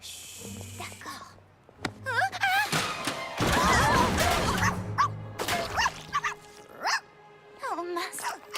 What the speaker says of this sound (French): Le bébé chien a renversé la peinture.